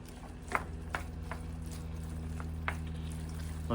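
Cajun chicken and sausage with rice stirred in a pan on the stove, a steady low simmer and sizzle under a constant hum, with a few soft scraping and clinking touches of the spoon.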